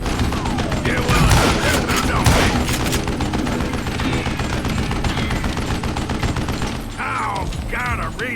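Rapid bursts of gunfire and mechanical clatter in the Western shooter Call of Juarez: Gunslinger, dense and loud throughout, easing near the end with a brief voice heard.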